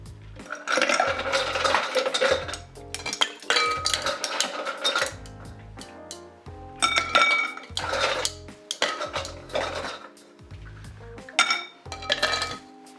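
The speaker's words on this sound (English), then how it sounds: "Now we just get some ice in here, mix these up, and see what we think." Ice clatters and clinks in glasses as two Negroni cocktails are stirred with a bar spoon, in loud, busy bursts of rattling broken by brief pauses, close up and with no talking.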